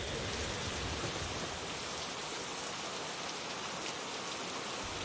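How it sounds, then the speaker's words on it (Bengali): Heavy rain pours down steadily as it starts at a village railway station in the evening, a dense, loud, unbroken hiss of drops with no voices. "আর স্টেশনে নামতেই আকাশ ভেঙে শুরু হলো বৃষ্টি।"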